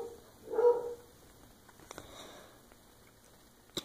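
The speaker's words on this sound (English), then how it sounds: "I hear your dog barking." A dog barks in a short burst, a couple of moderately loud barks early on, followed by quieter indoor shuffling and faint clicks with no talking.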